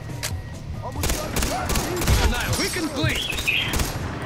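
Gunfire in Far Cry 3 co-op, rapid bursts of shots crackling in a dense fusillade with booming low thuds, while players talk over the shooting.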